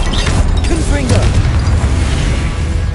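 A Confringo blasting spell cast in the Hogwarts Legacy video game, heard as a loud booming burst over dense, continuous game noise and music.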